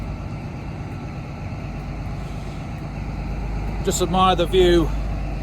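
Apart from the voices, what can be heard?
VP185 engine of the Midland Pullman train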